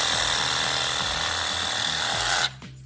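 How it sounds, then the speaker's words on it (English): A Milwaukee Sawzall reciprocating saw cuts through a pumpkin in a loud, rapid back-and-forth buzzing rhythm, then abruptly stops near the end. "That's why we only run with Milwaukee's. Sawzall. Literally, sawzall. Pumpkins, 2x4s, pipe, hands, anything."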